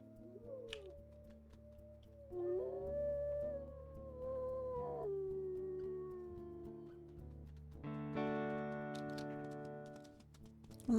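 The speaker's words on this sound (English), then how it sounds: "She can hear them howling." Several wolves in the video game WolfQuest howl together in long, overlapping, rising and falling tones, first faint and then building into a fuller chorus.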